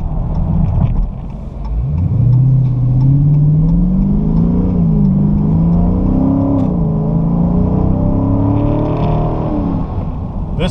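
A 2016 Dodge Charger R/T Scat Pack 392 drives at Texas Motor Speedway, its engine rising in pitch and then holding a steady, loud drone close by, with no voices over it.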